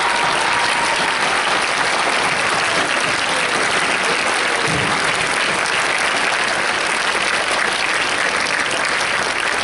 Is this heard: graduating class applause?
yes